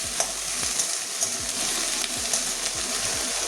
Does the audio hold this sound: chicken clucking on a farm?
no